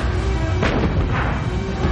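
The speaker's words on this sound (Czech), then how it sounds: "Baltimore a torpédoborce zahájili palbu." Naval gunfire from the cruiser USS Baltimore and escorting destroyers shelling shore targets: a couple of heavy, rumbling booms over a constant loud low roar, without speech.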